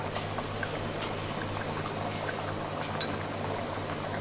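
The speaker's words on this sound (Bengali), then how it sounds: "জলটা পুরো দেখুন এভাবে দিয়েছি, মটনটা যাতে ডুবে থাকে এই আন্দাজেই জলটা দিতে হবে।" Water is poured over mutton in a pressure cooker for biryani, giving a continuous liquid splashing and gurgle over a low steady hum, with a faint clink or two.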